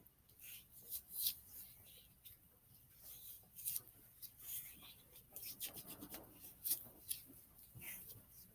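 Vaseline being rubbed into the skin of a foot, giving soft, close scratchy rubbing strokes in irregular bursts, fairly quiet, with no talk.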